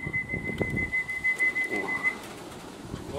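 Racing pigeons at a loft during a competition flight, with soft cooing and a thin sustained whistle-like tone over faint flutter and background noise, moderately close and fairly quiet.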